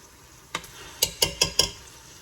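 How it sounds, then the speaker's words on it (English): Pulled pork stirred into chili in a cooking pot, a spoon knocking the pot rim in several quick close taps over a soft background hiss, with no talking. "Okay, so stir in your pork."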